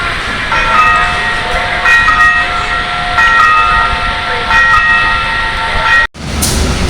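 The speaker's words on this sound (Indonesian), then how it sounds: "Kereta api Mataram perlahan memasuki stasiun Yogyakarta menggunakan lokomotif CC 204-0306." Mataram passenger train hauled by a CC 204 diesel locomotive rolling slowly into Yogyakarta station, a steady rumble with sustained tonal whine and mechanical drone, loud and continuous, cutting out briefly near the end before noise resumes.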